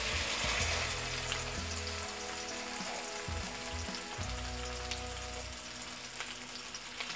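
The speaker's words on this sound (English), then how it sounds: "Once the fish is fried from one side, flip it over and fry it on the other side as well" Pieces of koi fish fry in hot mustard oil in a pan, a loud, steady crackling sizzle with bubbling spatter running throughout over quiet background music, no talking.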